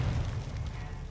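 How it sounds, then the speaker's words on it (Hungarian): A deep, sustained rumble of explosions in the video game Call of Duty: Modern Warfare rolls on steadily throughout, loud and low, with voices faintly present. "Minden robban utánunk."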